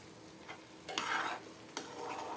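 Soaked flour dough for bobbattu being mixed by hand, a few soft wet squelching and stirring strokes, close and quiet.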